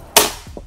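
One crisp, loud report from a PCP air rifle, the Predator Bocap Tactical Semi CNC, snaps out nearby and is followed by a short decay and a couple of soft knocks.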